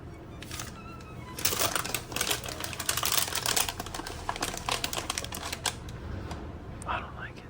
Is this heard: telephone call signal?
no